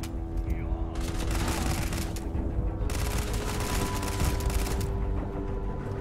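Sustained fire from a calibrated suppressed Grendel rifle in Starfield, a dense rattling fusillade over a continuous low rumble, with bursts swelling and easing across several seconds.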